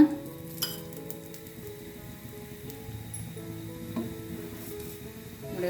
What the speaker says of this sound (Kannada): ಈ ರೊಟ್ಟಿ ಮೇಲೆ ಸ್ವಲ್ಪ ಎಣ್ಣೆನ ಹಾಕ್ಕೊಳ್ಳೋಣ